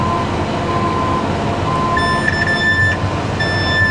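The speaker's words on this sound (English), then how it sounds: "that beeping saying I'm spraying over my rate right now because I'm not going very fast" A crop sprayer's rate alarm beeps in two long sustained tones, signalling over-rate spraying at low speed, over a steady engine drone, loud and close, with no talking.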